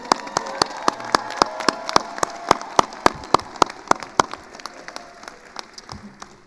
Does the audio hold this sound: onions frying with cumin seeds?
no